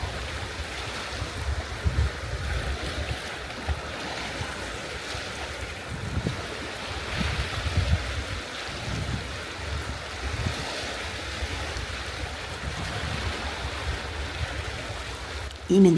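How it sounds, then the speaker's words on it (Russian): Baltic Sea waves wash steadily onto the shore, a continuous broadband surf rumble with soft swells rising and falling over sixteen seconds, close and moderately loud, with wind hiss and no talk. "А шум волн действует как природный фильтр"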